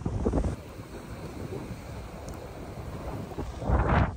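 Strong wind sweeps a surf-fishing beach at Seward, Alaska, a steady roaring rush with heavier gusts at the start and again near the end; no voices.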